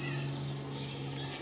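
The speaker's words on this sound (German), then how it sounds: "Welcher Vogel ist denn das?" A bird beside a roadside gives thin, high chirping calls over a steady low hum, heard close and alone without talk.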